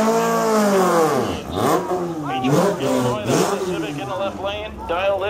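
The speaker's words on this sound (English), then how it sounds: "It's Rocker from Franklin, Wisconsin, driving the 1960 Volkswagen 1282." A 1960 Volkswagen drag car launches at Great Lakes Dragway during an import drag event, its engine revving hard through rising and falling pitch sweeps, loud and close, with an announcer talking over it throughout.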